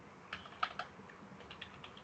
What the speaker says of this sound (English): Two keyboard enters you have to do.